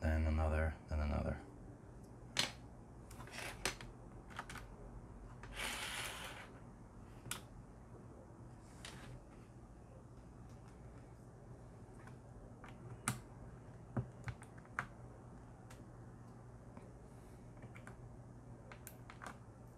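Mechanical keyboard keycaps being worked loose and pulled off a little at a time, producing sparse sharp plastic clicks and snaps over a quiet background, close and intimate, with a brief louder rustle near the start.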